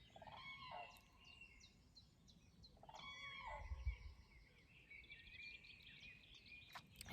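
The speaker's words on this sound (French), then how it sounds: "j'entends ces cris d'oiseaux" Birds calling around dawn at about 6:30 in the morning, a few repeated chirping and whistling calls in short bursts against soft background rumble, faint and somewhat distant, no talk.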